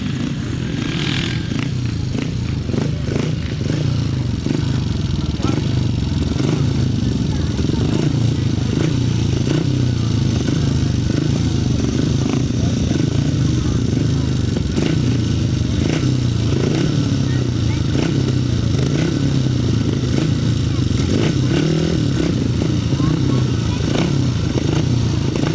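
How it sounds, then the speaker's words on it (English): 500cc sidecar motorcycles race on a grass track, and their engines drone and rumble loudly and continuously with a rough, clattering edge. The noise carries through the whole stretch while a voice talks over a public address. "We go then with race number 19 of the heat of the 500 sidecars"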